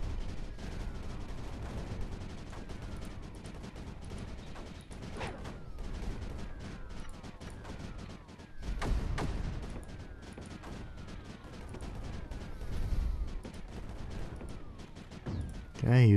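Sniper units firing in the strategy video game Creeper World 4, a busy stream of sharp overlapping shots and impacts running throughout, with a few heavier bursts standing out.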